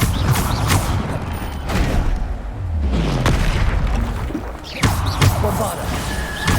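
The Bombarda spell in Hogwarts Legacy sets off a series of booming blasts and crashing impacts at irregular intervals, punctuated by sharp transients amid a noisy combat backdrop.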